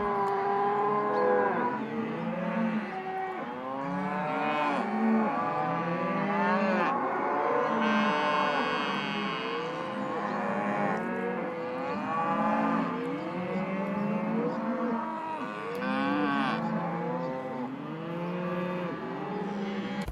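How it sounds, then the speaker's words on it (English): A large herd of cattle moos in overlapping, drawn-out calls from several animals, near and far, layered into a thick, continuous farm chorus for a sound design library. "Or even things like just tons of cows being cows."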